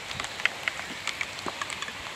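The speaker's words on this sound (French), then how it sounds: "Il pleut un petit peu" Light rain patters at a campsite where cyclists are pitched in tents, soft scattered drops tapping steadily and fairly faint throughout.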